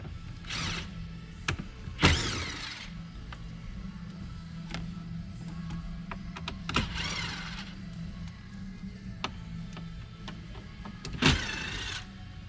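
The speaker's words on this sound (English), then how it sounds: "take out the 4 screws that are holding the radio in" Screws being backed out of a car radio mounting during an in-dash stereo swap, heard as scattered clicks and sharp metallic ticks with several louder rattling bursts over a steady low cabin hum.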